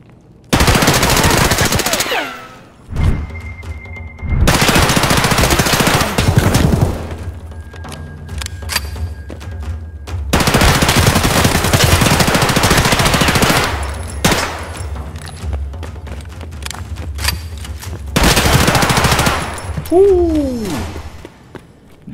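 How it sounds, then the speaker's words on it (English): Loud bursts of rapid automatic gunfire in the video game Escape from Tarkov, several long volleys separated by short pauses, with heavy booms and a few single shots. "I don't panic when I hear gunshots."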